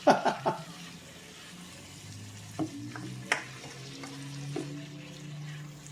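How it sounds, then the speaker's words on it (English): Bacon sizzles steadily in a hot pan, with a few sharp clinks and scrapes of stirring near the start and scattered later. "we got a nice sizzle going."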